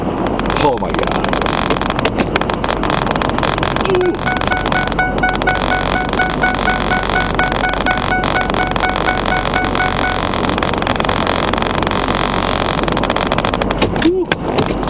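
Loud, constant rumble of a big truck being driven, its engine and road noise blending into a dense roar throughout, with a voice occasionally talking over it.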